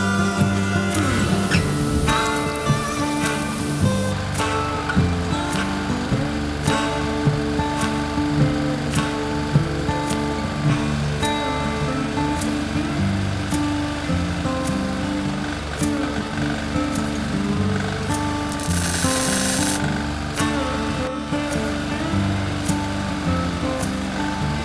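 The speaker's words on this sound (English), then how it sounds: "You can hear the generator" A small generator runs steadily throughout at a work site where a roll bar is being made for a backhoe, a constant high engine whine with occasional clicks and a brief burst of hiss partway through.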